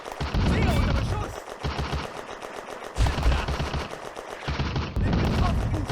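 Dense bursts of gunfire and machine-gun fire crackle loudly and almost continuously, with short pauses, in a World War II Eastern Front battle in the video game Firefight, with voices faintly mixed in.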